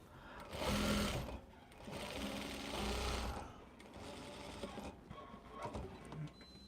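A sewing machine stitches a flannel patchwork t-shirt in several short bursts of rapid mechanical whirring, louder at first and then lighter, with brief pauses between runs.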